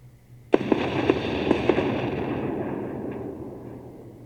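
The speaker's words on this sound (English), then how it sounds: "Yeah, he's shooting down the missiles." Game explosions as missiles are shot down in the space strategy game Endless Space 2: a sharp blast opens a run of quick cracking pops over about a second, then a long rumbling decay fades away, with no talking.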